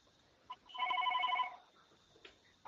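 A phone rings once during an online talk, a faint electronic ringtone that trills for about a second with quiet background noise around it.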